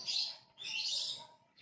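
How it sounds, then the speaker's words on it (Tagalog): Birds chirp in the morning in two short bright bursts, fairly close and clear, with quiet between them. "we hear all sorts of bird calls here in the morning"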